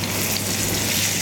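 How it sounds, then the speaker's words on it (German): A beef fillet steak sears in a pan of hot oil, giving a continuous, dense sizzle that stays at an even level throughout. "Dann wird in der Pfanne Öl erhitzt, bis es schön heiß ist, dass wir das Rinderfiletsteak scharf anbraten können."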